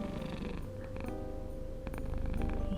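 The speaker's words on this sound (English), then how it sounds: "I think she's purring." A pet cat purrs softly and steadily close by, a low continuous rumbling hum that swells slightly toward the end in a quiet room.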